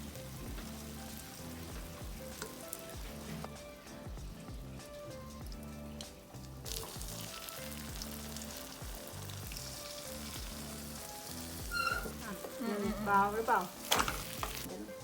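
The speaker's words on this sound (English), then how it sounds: "We are going to cook the omelette on low heat in some vegetable oil." Steady oily sizzling of a bitter gourd omelette frying in vegetable oil on low heat in a frying pan, with occasional scraping and stirring, growing a bit louder toward the end.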